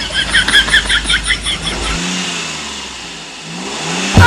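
A car engine revs hard as the accelerator is pressed, a loud rising roar that drops after about two seconds into a lower, wavering drone that swells again near the end.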